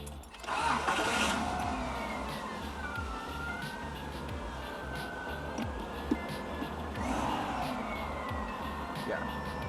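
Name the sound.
1995 Subaru Legacy wagon engine starting and running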